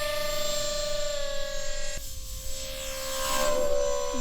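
Large radio-controlled ground effect model plane flying low, a steady high-pitched motor whine with a sharp pitch shift as it passes, then a rising buzz as it nears again, with no voices.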